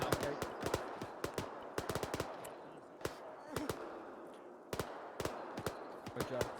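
Gunfire in a military video game, sharp individual shots and short bursts cracking at irregular intervals, fairly close and distinct against a quieter background, with some talk underneath.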